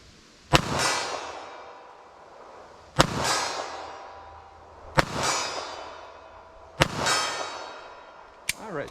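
Four sharp, loud gunshots from a .380 ACP handgun firing Winchester Silvertip rounds, spaced about two seconds apart, each cracking and ringing out briefly before the next, with a fifth shot cut off at the end.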